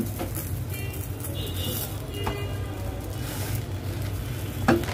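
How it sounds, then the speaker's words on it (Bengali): Oil-free store-bought paratha frying in a pan at home, a low steady sizzle with a few light scrapes and a sharp clink near the end, up close, no talk. "পরোটা সেকে দিচ্ছি"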